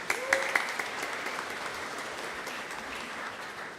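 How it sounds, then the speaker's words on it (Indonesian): A church congregation at a Sunday service applauds with steady, even clapping that holds for several seconds, moderately distant and fairly soft, with a few sharper claps near the start. "Tepuk tangan dulu buat semua Naposo Bulung."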